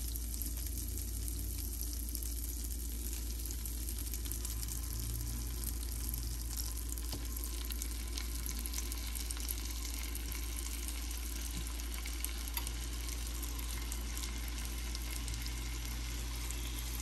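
Oil and butter sizzle in a hot pan on a stove: a faint, steady hiss of frying that continues without a break, with occasional small pops and clinks.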